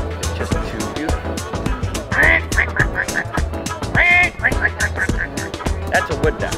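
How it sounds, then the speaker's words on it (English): A wood duck gives two rising, squealing calls that stand out clearly over a steady run of sharp, rhythmic clicking in the background. "That's a wood duck."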